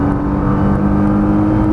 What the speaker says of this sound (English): Now unwind the wheel, squeeze the throttle.